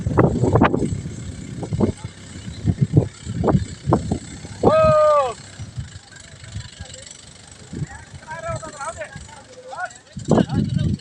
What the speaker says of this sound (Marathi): तुम्हाला दिसत आहे कसा निघत आहे ट्रॅक्टर